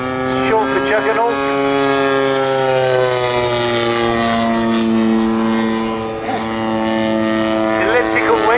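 A model P-47 Thunderbolt warbird flies at the Popham model air show. A strong, buzzing engine and propeller drone holds steady, then its pitch dips and rises as the plane passes, with a commentator talking throughout.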